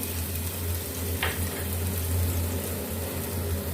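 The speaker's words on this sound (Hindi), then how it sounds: "इसको भी हमने हल्का सा फ्राई कर लेना है" Garlic and ginger fry in a pan for a tinda and potato curry, giving a soft, continuous sizzle over a steady low kitchen hum, with one brief clink partway through.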